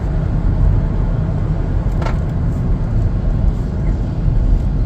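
Steady broadband road and engine noise inside a 2025 Chevrolet Blazer 2LT with cloth interior cruising at 50 mph, a constant low rumble with a brief higher swish near the middle.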